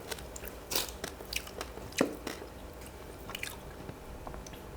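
Roast suckling pig skin is bitten and chewed up close, a series of crisp crunchy bites and moist chewing at an uneven pace, with no talking.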